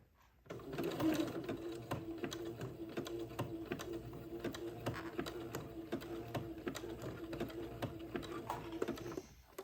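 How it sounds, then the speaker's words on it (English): A sewing machine stitches gathered lace onto entredeux for a baby raglan wedding outfit, running in a fast, steady mechanical rattle close by for several seconds before stopping, with no speech. "this will take me a minute to get this gathered lace all sewn onto the entree"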